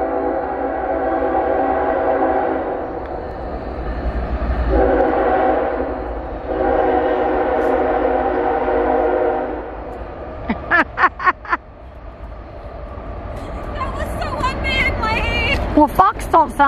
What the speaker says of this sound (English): That was just right as the train came.